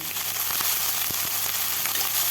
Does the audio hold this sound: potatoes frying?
yes